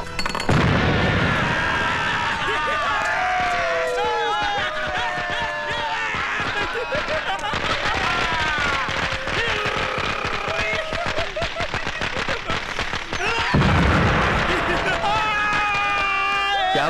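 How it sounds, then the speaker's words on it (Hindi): Dense, rapid crackling bangs from firecrackers going off continuously, with loud bursts and a crowd's shouting mixed in throughout. "पटाखे किस खुशी में जला रहे हो?"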